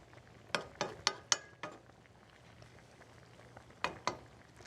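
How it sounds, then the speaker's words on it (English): Several sharp crackles and pops from food frying in a pan, clustered early then two more near the end, over a quiet steady hum. "Starting to sizzle."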